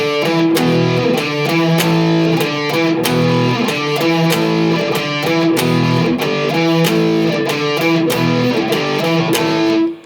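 A steady, driving distorted electric guitar riff repeats chugging chords in a tight rhythm, loud and continuous before stopping abruptly.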